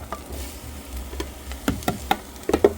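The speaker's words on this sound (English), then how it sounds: "Now we're just going to add the apples to the onions in the pan." Diced apples go into a pan of frying onions, giving a soft sizzle under a few clattering knocks and scrapes of a utensil toward the end, close and fairly quiet with no talking.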